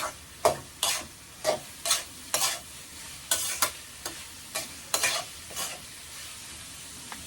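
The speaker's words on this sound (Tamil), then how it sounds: "இப்போது வெங்காயம் வந்து நல்லா வதங்கணும். அது வரைக்கும் நம்ம நல்லா வதக்கணும்." Onions sauté with salt in a hot pan, a spoon scraping and stirring in about a dozen distinct strokes over a soft, steady sizzle.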